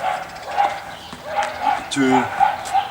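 Dogs barking outdoors in a garden during work on a raised planting bed, a few short barks and yips spread across the moment, with a person talking over them.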